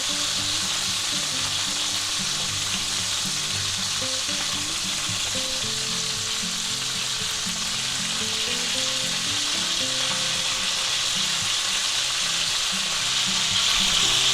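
A chuck roast sears in a hot pan while being basted with butter and rosemary, giving a loud, continuous, even sizzle and crackle with no talking.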